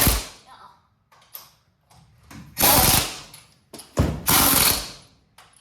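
Lug nuts are tightened as wheels go back onto a car, heard as loud bursts of ratcheting, whirring tool noise, two long runs and several shorter ones, close by with brief gaps between.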